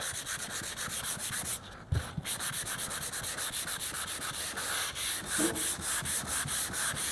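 A sanding block drawn back and forth with sandpaper over primer on a car body panel, a steady rhythmic rasping close up with light pressure and a brief pause midway.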